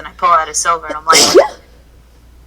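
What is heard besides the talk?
sneeze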